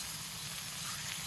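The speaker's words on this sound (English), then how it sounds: "The sauce simmers on the stove, bubbling gently and releasing its rich, savory aroma." A sauce simmering on a stove gives off a faint, steady sizzle and hiss with a low rumbling undertone, continuous and without voices.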